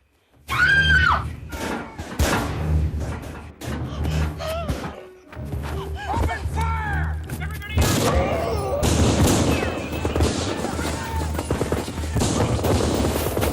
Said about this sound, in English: you have like a massive gun shooting spree where you got guys on 50 cals, guys shooting machine guns